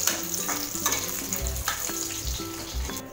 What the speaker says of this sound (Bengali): আর কাজুগুলো একটু ভালো করে ভেজে নেব।